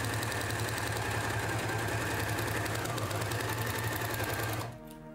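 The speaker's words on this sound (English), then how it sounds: "The rounded edge of the pocket pouch also needs to be overcast on the serger." A serger overlock machine overcasts the rounded edge of a fabric pocket pouch, running in a fast, loud, steady mechanical chatter before stopping abruptly near the end.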